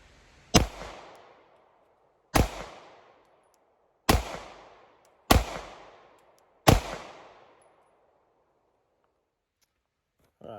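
Five sharp Shadow Systems CR920 pistol shots fired at a range, each a loud crack with a short decaying echo, spaced about one to two seconds apart with no talking.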